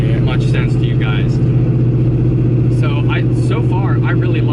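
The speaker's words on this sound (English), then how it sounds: "Every noise that the car makes within the engine or the exhaust, you can hear it." Inside a moving car cruising on a highway in sixth gear, the engine and exhaust make a steady low drone while someone talks over it.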